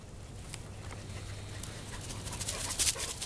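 Two dogs running back toward their owner in an open outdoor setting, with faint panting and light footfalls under a steady background hum; no speech.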